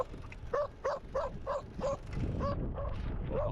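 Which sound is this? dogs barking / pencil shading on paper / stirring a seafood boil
dogs barking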